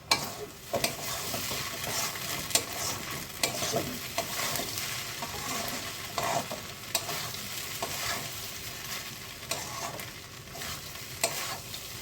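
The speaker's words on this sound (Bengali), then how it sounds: "আমি না তুলে তুমি নিচ দিয়ে নাড়তে থাকো" Poha (flattened rice) being stirred from the bottom of a pan with a spatula, a steady scraping and shuffling under a low sizzle, close and continuous with occasional sharper scrapes.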